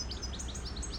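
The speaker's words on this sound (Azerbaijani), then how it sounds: "Bakın burada da bir dənə belə gözəl quş var." A bird chirps near the mosque in Shusha, a quick series of thin, bright tweets repeating close by over a low steady background hum.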